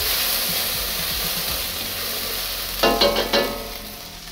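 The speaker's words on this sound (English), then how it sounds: "throw in my chili and garlic. Hurry up and mix it." Chili and garlic stir-fry in oil in a hot wok with a steady loud sizzle, and a short burst of clattering, scraping stirs comes near the end.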